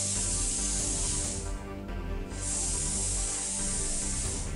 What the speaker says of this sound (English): followed up by a little dry steam and a wipe down